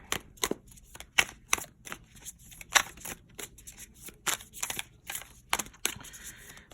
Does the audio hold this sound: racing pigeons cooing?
no